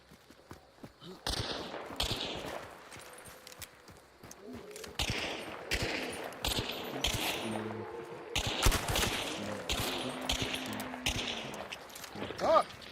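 Gunfire rips through a Hunt: Showdown 1896 match, bursts of loud close shots and rapid volleys recurring across the clip, mixed with game ambience and footsteps, ending as the weapon runs dry.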